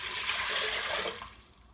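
Water is poured into an Instant Pot over dry pinto beans, a loud close rushing splash that runs steadily and then tapers off toward the end, with no voices.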